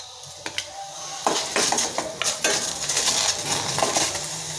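Ingredients being added to a steel cooking pan while making an oil-free pea curry, with repeated clinks and scrapes of utensils against metal and a faint sizzle, close and moderately loud.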